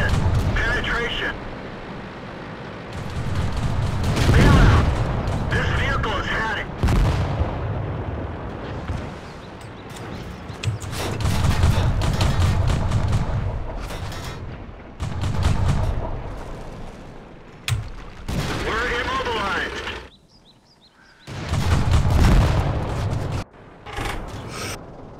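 Tank cannon and gunfire in a video game battle, heavy booming shots and rumbling combat noise continuing throughout, with excited voices talking over the action.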